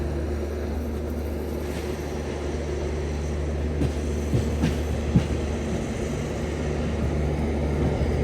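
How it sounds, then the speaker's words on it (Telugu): Buddhist Circuit special train passing on tracks in India, a steady low rumble of rolling wagons with a few brief clanks, continuous and fairly close throughout. "బుద్ధిస్ట్ సర్క్యూట్ స్పెషల్ ట్రైన్ అది"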